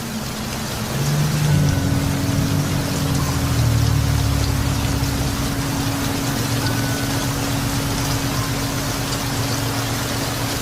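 Heavy rain pours at night on a flooded street in Iguatu, picked up by a security camera as a dense, steady hiss. A low engine or pump hum runs underneath, and no voices are heard.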